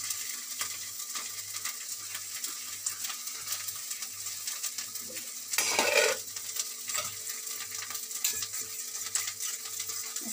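A spice mix loosened with water frying in a pan for spiced potatoes, with steady sizzling under rhythmic scraping stirs and a louder burst of sizzle partway through; no one speaks.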